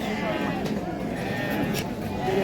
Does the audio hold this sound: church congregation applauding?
no